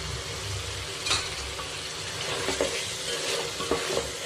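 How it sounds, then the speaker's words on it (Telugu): Chicken being stirred in a pan with chilli powder, coriander powder and chicken masala for biryani, a soft steady sizzle broken by a few light scrapes and clinks of the spoon against the pan. "ఇవన్నీ వేసి బాగా కలిపేద్దాం"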